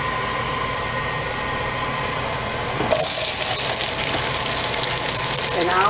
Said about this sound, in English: I'll just stir them around in this good old bacon grease until they render well, till they caramelize.